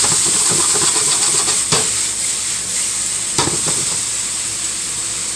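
Salted mushrooms and onions frying in a pan, a loud continuous sizzle and hiss close up, with a couple of sharp spatula scrapes and taps against the pan.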